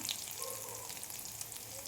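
Onions fry lightly in a pan with a faint, steady crackling sizzle, heard quietly and close with no talking.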